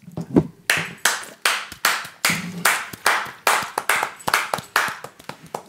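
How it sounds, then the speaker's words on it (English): A small group claps to welcome a podcast guest, giving a short round of sharp, close hand claps in a loose, uneven rhythm that carries on for several seconds with no talk. "Round of applause"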